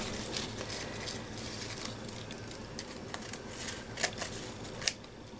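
Quiet, soft snipping of scissors through glue-covered paper, a few sharp little cuts standing out against faint background rustle.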